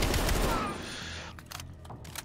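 An XM4 rifle fires in Call of Duty: Cold War singleplayer: a rapid burst of close shots in the first half second, then a fading tail and fainter scattered gunfire amid game ambience.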